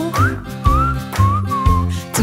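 Bright melodic whistling in a French children's song, a short tune carried over a bouncy rhythmic backing with steady beats.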